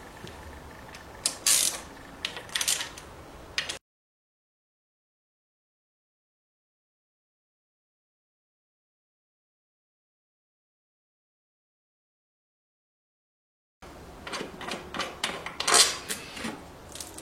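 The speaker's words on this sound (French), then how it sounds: "Vous devez donc desserrer les 11 vis qui font le tour de votre carter" The screws on the kick-start crankcase cover of an MBK Nitro scooter are loosened by hand, making small metallic clicks and light ratcheting up close. There are two short spells of this work with a long silence between them.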